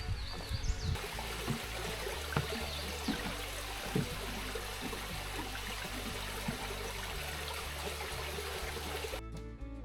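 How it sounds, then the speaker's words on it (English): A creek flows somewhere below a hiking trail in a Georgia state park, giving a steady broadband rush of running water with small trickling splashes, continuous and fairly close throughout. "We got a nice creek down there. You probably can't see it."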